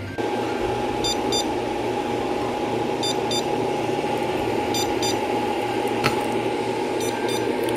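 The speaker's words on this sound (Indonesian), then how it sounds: "kemudian saya nyalakan lagi dan ternyata alarmnya bunyi lagi nih" A lithium battery powerwall for a solar power system sounds a repeating alarm after being switched back on, with short bursts of paired high beeps every couple of seconds over a steady electrical hum.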